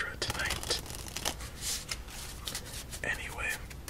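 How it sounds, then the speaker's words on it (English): Deck of playing cards being shuffled up close at a quiet tabletop, a string of crisp riffling and flicking bursts with soft papery rustles between them, under faint whispery breathing. "let's give this deck one more shuffle and then one more series of cuts."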